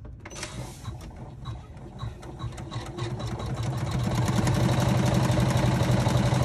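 A sewing machine stitching a seam on a vinyl gaming bag runs at a steady, rapid mechanical whir, close and continuous, growing louder and denser partway through.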